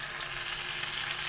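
Tamarind water hitting hot oil in a pan for a fish curry, a dense, bright, continuous sizzle heard up close for a brief moment, with no voices.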